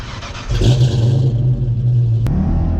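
The engine of a Ford Fox Body Notchback with a Vortech supercharger revs up sharply, holding a loud, deep rumbling roar with a whining edge before it drops off near the end.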